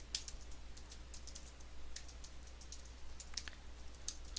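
Rapid, light clicking of keys being typed on a computer keyboard, a steady irregular patter of soft taps close by with no voices.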